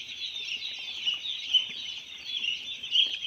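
Chickens at a poultry farm, a large fresh flock of about 4100 birds on their second day, make a dense, continuous chorus of high-pitched cheeping and clucking with small peaks throughout and no talk.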